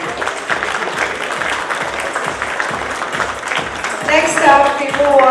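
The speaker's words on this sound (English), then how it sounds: "Let's have a round of applause for Ashish Tiwari." Audience applause for a guest speaker at a business conference session on building B2C brands, a steady dense clapping wash with a voice rising over it near the end.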